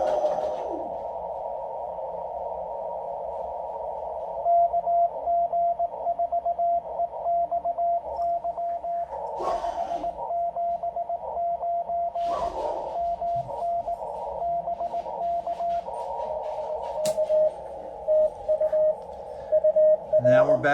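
Steady Morse code tone from an ICOM IC-705 radio, keyed in rapid dots and dashes over a hissy radio background, with a few brief clicks and bursts of noise.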